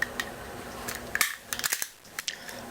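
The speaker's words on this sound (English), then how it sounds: "Now you're going to want to cycle the bolt handle several times to ensure there is no binding and everything is functioning properly." The bolt handle of an SKS carbine cycled by hand several times, giving sharp metallic clacks and sliding clicks close by.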